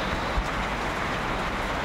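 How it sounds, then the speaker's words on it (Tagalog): Gentle afternoon rain falls steadily, a soft, even hiss of drops with no voices and only a faint low thump partway through. "Ang sarap matulog pag ganito yung ulan, no? Yung mahina lang, hindi masyadong malakas."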